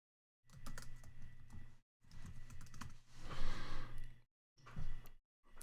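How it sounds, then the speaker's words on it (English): Password being typed on a computer keyboard during a website checkout login: several bursts of close, rapid key clicks separated by short pauses, with a brief stretch of hiss between bursts. "I think I typed my password wrong. Let me try it one more time."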